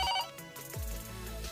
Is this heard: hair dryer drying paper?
no